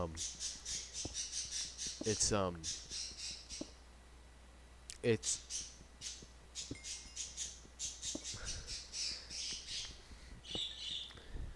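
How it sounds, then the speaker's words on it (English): Birds squawk loudly and repeatedly in sharp, scratchy bursts, close and almost nonstop, with a person talking briefly underneath the racket. "Oh my lord, the birds are going nuts"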